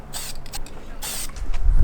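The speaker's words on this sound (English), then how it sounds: "all I'm doing here is spray painting a little bit of paint" Aerosol spray can hissing in two short bursts as paint goes onto freshly welded metal bracket seams on an $800 Mustang GT project, followed by low garage rumble.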